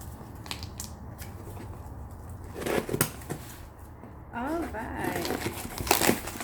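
A blade slices through a cardboard shipping box, with scraping and crinkling strokes near the mic and a brief tearing rasp toward the end, under light room noise.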